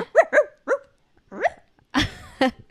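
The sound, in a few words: dogs barking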